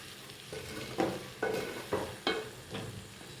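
Tomato masala sautéing in hot oil for a fish curry, with a steady sizzle under five distinct stirring scrapes spaced about half a second apart, close and moderately loud.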